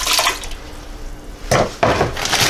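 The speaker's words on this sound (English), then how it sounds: "we're going to put a cup of water in there." A cup of water is poured into a pot for blueberry jam, making a loud, close splashing rush that fades, then returns in two fresh bursts of pouring near the end.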